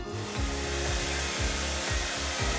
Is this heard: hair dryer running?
yes